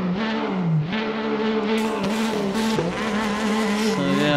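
A Porsche GT3 RSR race car in Assetto Corsa laps the Nordschleife at night, its engine note rising and falling through gear changes, loud and continuous, with no voices.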